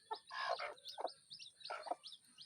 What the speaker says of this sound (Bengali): আমার বাড়িতে কিছু মুরগি আছে